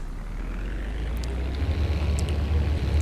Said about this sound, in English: Now what I'm going to do is apply full throttle.